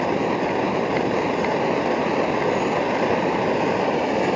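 A pressurized kerosene stove burns at high output, giving a loud, steady, unbroken roar close by that stays constant throughout.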